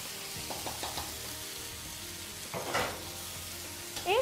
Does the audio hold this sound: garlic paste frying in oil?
yes